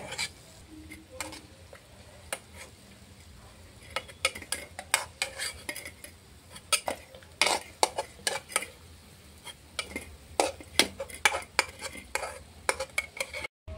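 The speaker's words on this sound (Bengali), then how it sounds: "ফুলুরিগুলো হালকা লাল লাল হয়ে গেছে, এবার আমি তুলে ফেলবো" Fried palm-fruit fritters are lifted out of a pan in a miniature kitchen, with sporadic sharp clinks and scrapes of a utensil against the pan over a faint, low sizzle of oil.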